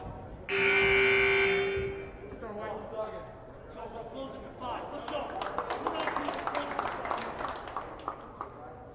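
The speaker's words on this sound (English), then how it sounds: "So first buzzer out of a Mohawk timeout." A loud, sustained electronic buzzer in a high school basketball gym ends a timeout during a boys varsity game, followed by sneaker squeaks, footsteps and crowd noise as a voice talks.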